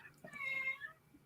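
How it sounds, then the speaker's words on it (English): A pet cat meows once in the background, a faint drawn-out cry behind a quiet online conversation at a woodturning symposium. "Do I hear a cat?"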